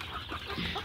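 Desi hens on a poultry farm cluck in a short burst of overlapping calls, close and moderately loud, with no voices.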